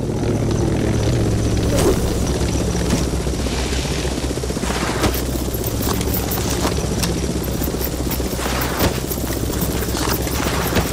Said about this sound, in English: I think I heard a helicopter. It's been hovering over for like the last 5 or 10 minutes